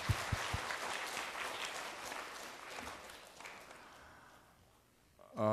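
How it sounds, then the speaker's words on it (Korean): Congregation applause in a church at the close of a revival meeting, a full round of clapping that gradually thins and fades out, followed by a brief louder sound at the end. "격려의 박수를 한번 보내겠습니다"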